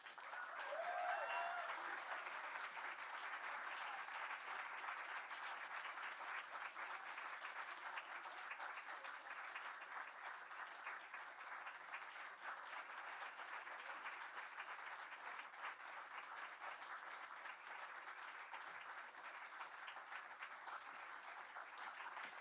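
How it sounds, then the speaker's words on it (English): A crowd applauds a prize winner at a university arts showcase and anthology launch, a long, even wash of clapping heard from some distance, faint but sustained with a brief cheer near the start. "So please give her a round of applause"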